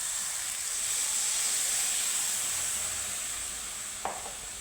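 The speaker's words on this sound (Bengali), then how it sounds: "এখানে আমি এখন একটু নাড়িয়ে চাড়িয়ে" Cauliflower curry cooks in a pan with a constant, fairly loud sizzling hiss, broken only by one brief scrape of stirring near the end.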